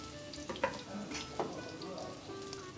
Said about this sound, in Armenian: Ահա։ Դա տապակում է։ Ինչ լավ ձայն է, չէ՞։